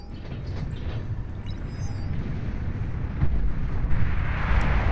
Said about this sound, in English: Massive bombing run up on the northern side.